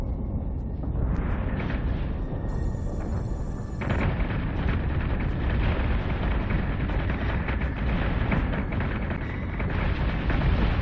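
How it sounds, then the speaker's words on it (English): Sustained space-combat weapons fire and explosions battering ships in the Battlestar Galactica game, a dense, loud, continuous roar of booms and blasts with no clear pauses. "We're taking fire."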